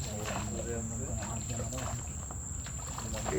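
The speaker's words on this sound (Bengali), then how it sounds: "পানির শব্দ আর ঝিঝি পোকার শব্দ।" Crickets chirp in a steady, continuous high drone deep in the Sundarbans mangrove forest, with faint flowing water beneath and voices talking over it throughout.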